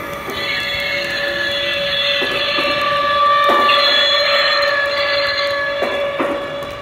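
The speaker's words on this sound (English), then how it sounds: "I'm gonna put on the train brake now." Lionel Vision Line model train reefer cars with the brake applied give off a steady metallic squeal and whine layered over rumbling rail noise, with a few sharp brake hisses, loud and continuous throughout.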